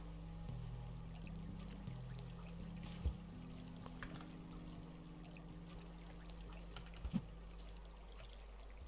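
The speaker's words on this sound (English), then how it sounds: "Water leak." Water leaks in the video game Rain World as a faint, steady trickling stream over a low hum, with a few brief clicks.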